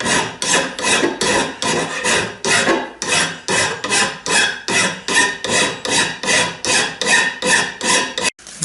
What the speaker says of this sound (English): as I file and get it smooth